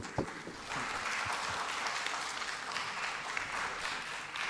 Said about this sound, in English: We appreciate to the speaker by applause.